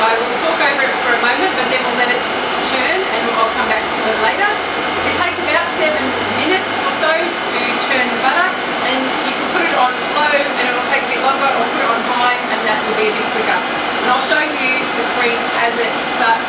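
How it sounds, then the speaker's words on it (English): A food processor churns cream into butter with a loud, steady whirring motor drone that holds constant and close throughout. "So we'll just pop that onto the food processor and we'll turn it on. Now it's going to be very noisy"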